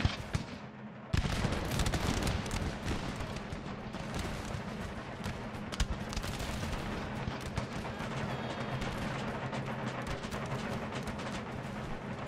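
Massed musket gunfire in the video game Empire Total War crackles as a dense, continuous volley of rolling shots. It starts abruptly and stays loud and thick throughout, with a few sharper reports standing out.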